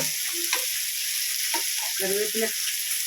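Oil sizzles and crackles steadily as fish coated with pepper, turmeric and salt fries in coconut oil in a pan, with a few soft bubbling pops rising above the constant hiss.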